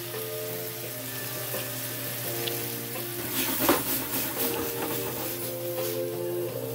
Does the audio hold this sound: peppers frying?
yes